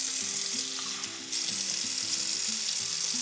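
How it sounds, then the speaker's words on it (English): Warm water at about 110 degrees runs steadily into a bowl with a continuous hissing splash, over a faint, stepped low tonal pattern in the background. "we're going to fill this bowl up about 3/4 of the way with some warm water"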